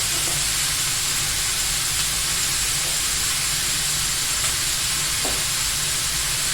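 Ground beef seasoned with salt, pepper and garlic powder sizzles in a pan over medium-high heat, a steady close hiss and crackle that holds through the whole stretch with no talking.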